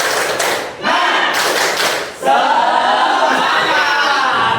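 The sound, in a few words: group rhythmic spirit clapping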